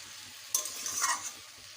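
Pumpkin pieces are stirred in a pan, a short scraping rustle over a faint background sizzle, quiet and close with one brief burst of movement.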